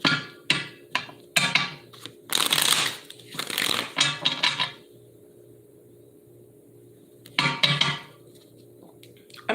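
Tarot cards being shuffled by hand in short papery bursts and riffles, several quick flurries over a few seconds, then a pause before one more burst, with a low steady hum underneath.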